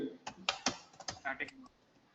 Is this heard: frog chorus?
no